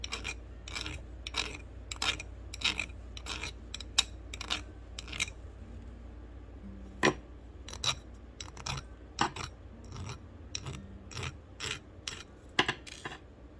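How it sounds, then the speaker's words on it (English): Metal file rasping over the sharp edges of a small metal four-leaf-clover pendant in repeated short strokes, close and fairly quiet, with a faint steady fan hum in the background. "And I am just filing down any sharp pokey bits."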